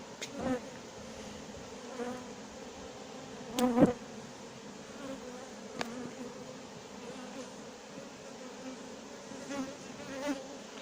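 A honeybee swarm buzzes inside a cardboard box during a swarm capture at Villabé, a steady insect drone with a few louder surges, close to the microphone and without speech.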